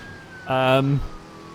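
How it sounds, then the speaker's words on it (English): A police bike siren sounds once in the racing video game Midnight Club 3, a short loud electronic wail rising and dropping off within about half a second. "I heard a siren. That was a police bike."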